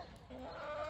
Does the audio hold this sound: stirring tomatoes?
no